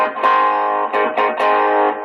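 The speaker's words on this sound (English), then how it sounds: "So this is just my MXR Timmy drive. It sounds like this." Electric guitar through an MXR Timmy overdrive pedal playing a few sustained, thick chords in quick succession, with a short gap between each strum.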